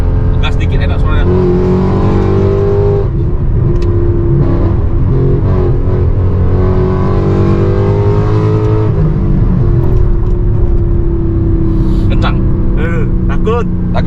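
A Mercedes C63 AMG with a 6300 cc V8 accelerates on a highway, its deep engine roar rising and falling through gear pulls, loud from inside the cabin while people talk over it.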